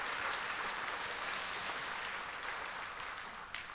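A church congregation at a Sunday service applauding to bless an elderly retired pastor, a soft, distant, even patter of many hands that holds steady throughout.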